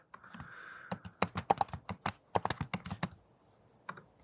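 Rapid, close keystrokes on a computer keyboard typing into a long web form, a quick uneven burst of crisp clicks that pauses briefly near the end before one last tap.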